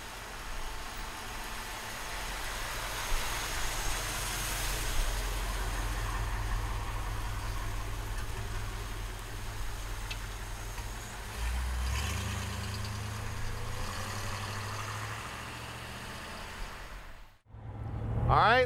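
Ford engine in an all-steel 1932 Ford Tudor running steadily in a continuous low rumble, fairly close, before a brief cutoff near the end.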